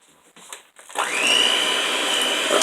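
An electric mixer whirs steadily through chocolate peanut butter cookie dough, starting abruptly after a few soft knocks and running loud and constant close by.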